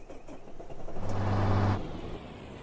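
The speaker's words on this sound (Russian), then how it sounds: "Поехали, как всегда, слушаем звук двигателя." A Volvo F10/F12 truck engine in Euro Truck Simulator 2 cranks and fires, rising into a low steady rumble for about a second before cutting back to a quieter idle, heard alone.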